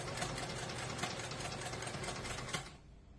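A sewing machine stitches a lapped zipper with a steady, close mechanical whir that runs evenly for nearly three seconds, then stops abruptly, leaving only a faint room tone.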